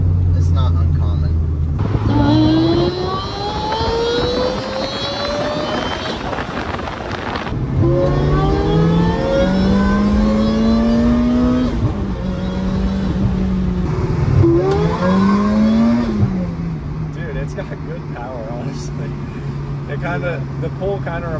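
A supercharged Toyota Celica GT-S accelerates hard from inside the cabin, engine pitch climbing through repeated gear pulls with brief drops at each shift, loud and close, with supercharger whine layered over the rising engine note.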